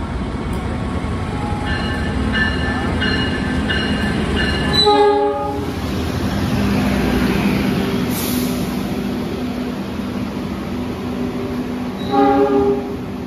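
The Purwojaya train, running from Gambir to Cilacap, passes a waiting train at a station where construction work is underway, sounding a horn twice: a long loud blast near the start and a shorter one near the end, with a steady rumble throughout.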